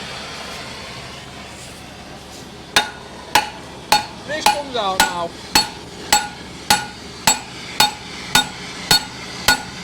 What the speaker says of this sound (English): I'll get a big hammer on it.